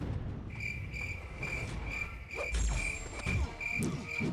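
Crickets chirp as a comic sound effect in a lull, a steady repeating pulse of short trills over a low rumble with a few soft thumps.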